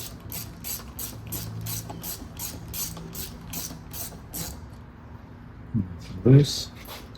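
Socket ratchet with a 7mm socket loosening an intake hose clamp on a 2012–2018 Ford Focus, a rapid series of close, even clicks running for several seconds, followed by a short clunk, with someone talking faintly.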